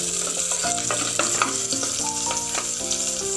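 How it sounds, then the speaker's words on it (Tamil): Small onions and garlic frying in a pan for a lentil rice dish, with a steady crackling sizzle and stirring scrapes throughout, close and without voices. "இந்த 10 பெரிய சின்ன வெங்காயமும் பூண்டையும் போட்டு நல்லா நம்ம ஃப்ரை பண்ணணும்."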